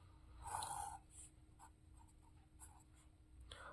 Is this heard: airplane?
no